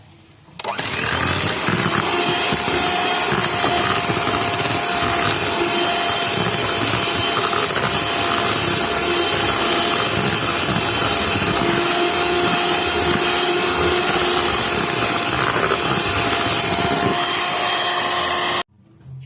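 An electric mixer beats egg yolks for a cassava tape sponge cake, a loud continuous motor whine with a scraping, rattling texture that switches on, runs steadily and cuts off at the end.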